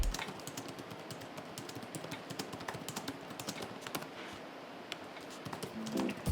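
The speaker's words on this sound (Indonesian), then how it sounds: "Itu yang bikin dia nggak akan berisik kalau misalnya kita ngetik-ngetik pakai ini laptop." Steady, rapid typing on a Lenovo Yoga 7i laptop keyboard, with soft, muted key presses tapping in a dense, continuous rhythm close up, heard alone without talk.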